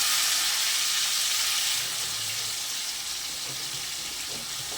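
Marinated paneer pieces, coated in turmeric and red chilli, sizzle in hot oil with a soft, even hiss that eases slightly after the first couple of seconds, close and unaccompanied by speech.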